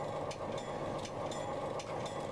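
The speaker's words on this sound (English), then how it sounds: "And there's an inbound freight train." An inbound CN freight train rolling past near historic Fort Langley, a low steady rumble of heavy wagons with repeated faint metallic clicks at regular intervals, heard at a moderate distance without speech.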